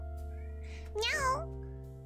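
A person imitates a cat with a single drawn-out, rising and falling meow, mid-loud over a steady background hum.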